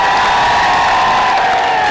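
A large audience at an awards event cheers and claps loudly, a dense sustained roar of voices and applause that stays steady throughout.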